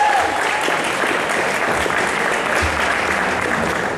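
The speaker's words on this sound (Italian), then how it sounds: "Più applauso ragazzi, vi vedo un po' moscetti" A crowd applauds at a poetry slam as the next poet comes up, with sustained dense clapping that stays loud and even throughout, with no voices over it.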